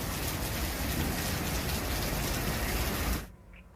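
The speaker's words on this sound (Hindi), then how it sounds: "मूसलाधार बारिश ने स्वच्छता अभियान की भी पोल खोल दी, जिससे कई जगहों पर जल जमाव की स्थिति हो गई।" Torrential downpour in Jamshedpur roars as a dense, loud, steady hiss of rain on surfaces, continuing for about three seconds before cutting off abruptly into near silence.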